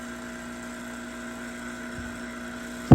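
Vacuum pump running in its second stage of roughing vacuum on a refrigerant system, a steady even mechanical hum and drone held throughout, with a brief thump at the very end.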